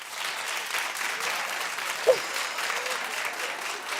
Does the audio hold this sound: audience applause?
yes